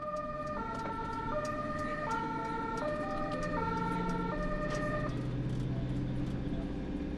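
A German Red Cross (DRK) ambulance siren wails in a repeating two-tone pattern over steady road traffic noise, loud and continuous throughout.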